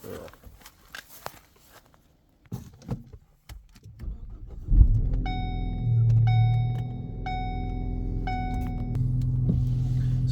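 A 2013 Ford Focus ST starts up partway through: a deep, steady engine rumble swells and holds, with a repeating electronic chime pinging above it after some quiet handling noises.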